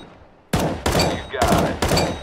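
Short bursts of automatic gunfire in Counter-Strike 2, four sharp, loud bursts in quick succession after a brief quiet opening, close and clear with no talking.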